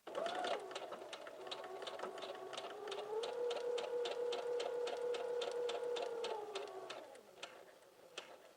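A sewing machine stitches a 5/8 inch seam on a maxi skirt, a steady motor whine with rapid rhythmic needle ticking for about seven seconds before it slows and stops.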